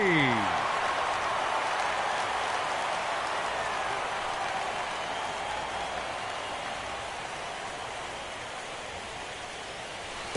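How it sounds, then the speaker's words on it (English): Heavy rain pouring down on an open-air baseball stadium during the 2016 ALDS playoff game between the Orioles and Royals, a dense steady hiss filling the whole clip, with a brief tone at the start and a sharp knock at the end. "Well, the rain is coming down hard here."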